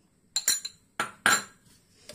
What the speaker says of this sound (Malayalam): നമുക്ക് നന്നായി ഇളക്കി യോജിപ്പിക്കാം. അതിനകത്ത് അരസ്പൂൺ ഏലക്കാപ്പൊടിയും കൂടെ ഇടാം.